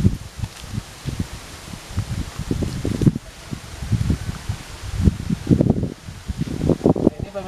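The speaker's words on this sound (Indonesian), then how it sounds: "Jadi anginnya pun sepoi-sepoi" A gentle breeze rustles leaves at a hillside grave at the tomb of Eyang Cikancung, with soft irregular swells of rustling and light wind that rise and fall close to the microphone.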